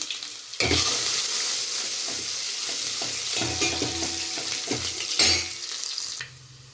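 Onion and curry leaves dropped into hot oil for a drumstick sambar tempering burst into a loud sizzle, with repeated stirring scrapes over the crackle before it fades out.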